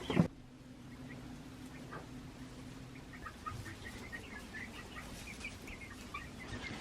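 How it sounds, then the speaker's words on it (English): Chickens and chicks on their first time outside, giving soft, scattered clucks and faint high chirps against a quiet indoor background, with one brief louder sound at the start. "I love that with chickens, they just tell you what they think."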